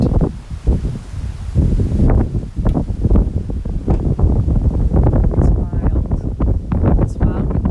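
Gusty wind buffets the microphone on an outdoor walk, with rough low-frequency rumble and rustling throughout, and a person speaking under it.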